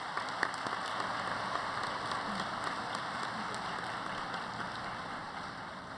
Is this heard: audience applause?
yes